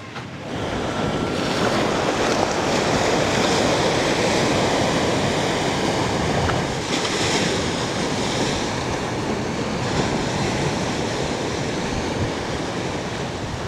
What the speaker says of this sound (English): as soon as you step away from the hotel, it gets very windy very quickly